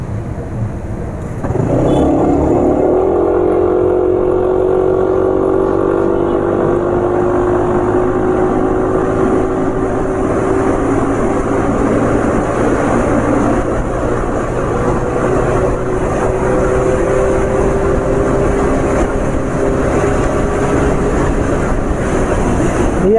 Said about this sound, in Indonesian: Ini coba lagi ya untuk ngetes suara keretak-keretak itu